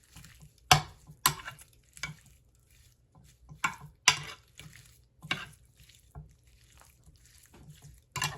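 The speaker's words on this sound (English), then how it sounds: "you're just going to go ahead and whisk that to mix all that yummy flavor." Whisk scraping and clinking against a pot of seasoning mixture for Dominican fried chicken, a series of sharp metallic taps and swishes at irregular intervals, close and fairly loud over a low steady hum.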